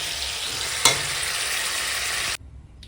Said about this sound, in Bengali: তেল গরম হয়ে গেছে শুকনো লঙ্কা ফোড়নে দিয়ে দিলাম